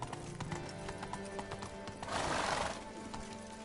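Horse hooves clip-clop steadily on a road in the Witcher 3 video game, close and clear, with a brief whinny and a swell of louder movement near the end, over game music and ambience.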